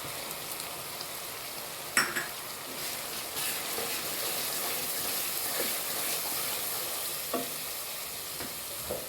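Ginger-garlic paste with spices sizzles steadily in a pan for a Bengali-style tehri, with a spoon stirring and occasionally scraping against the metal, close and moderately loud, with no talking.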